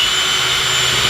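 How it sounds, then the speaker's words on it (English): A loud, steady high-pitched whine of a power drill boring holes for plumbing in kitchen cabinets, running continuously without pause, close up, with no voices. "may as well drill out the holes for the plumbing to come through"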